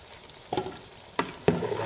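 Okra (bhindi) half-fries in hot oil in a pan, a soft, steady sizzle broken by three sharp clinks and scrapes of a utensil stirring, close by and with no voices.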